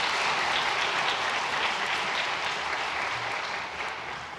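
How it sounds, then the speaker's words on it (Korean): Church congregation applauding a mission team during a Sunday service, a dense, even roar of many hands clapping that holds steady and tapers slightly at the end. "잘하고 오라고 크게 박수하겠습니다."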